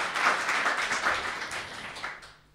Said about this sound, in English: So big round of applause for these two wonderful people.